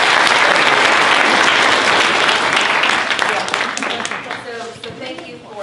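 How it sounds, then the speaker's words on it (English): Loud, dense applause from an audience fills the room, then gradually thins and fades toward the end. "If we can give them a round of applause"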